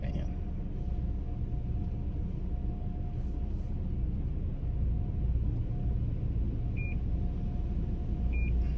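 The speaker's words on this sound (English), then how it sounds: "Parking system's working again. I gotta turn that off. This ain't gonna do nothing but make noise." The parking sensor system on a Lexus GS 350 gives two short, high beeps near the end, over a constant low engine rumble inside the car.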